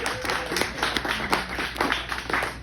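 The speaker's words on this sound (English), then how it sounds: "Can we give a round of applause for Chris?" An open mic audience in a tap house claps for a returning performer named Chris, giving a brisk, moderately sized round of applause that stays fairly even for a few seconds.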